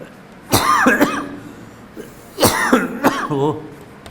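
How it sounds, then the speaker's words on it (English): Two sharp, close coughs about two seconds apart, each a harsh burst with a raspy tail, over a quiet room background. "I am coughing"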